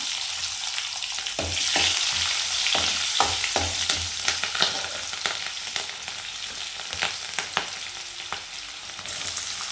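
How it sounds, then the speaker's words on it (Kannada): Chana dal and urad dal frying in a little oil, a steady close sizzle with repeated sharp scraping clicks of a spoon stirring through the pan, no voices. "ಕಡಲೆಬೇಳೆ ಉದ್ದಿನಬೇಳೆ ಸ್ವಲ್ಪ ಎಣ್ಣೆಲಿ ಫ್ರೈ ಆಗಬೇಕು"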